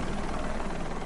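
Helicopter hovering over a walled compound, a steady, dense rotor and engine roar with no pause, loud and close throughout.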